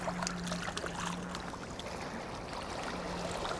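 A clay pipe fragment is rinsed in water, giving a soft continuous splashing and trickling wash that stays steady and close for a few seconds, with no speech.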